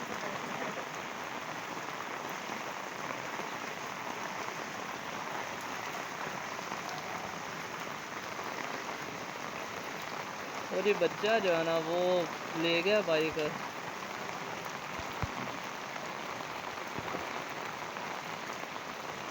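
Heavy monsoon rain during flooding in Kasur, a dense, constant hiss of downpour on surfaces with someone speaking briefly over it partway through.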